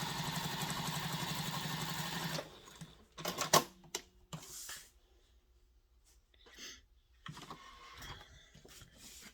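A sewing machine stitches through waterproof canvas on a diaper bag, running loud and steady for about two seconds, then stalling into a few short bursts and clicks as a magnetic snap catches, with quiet gaps between.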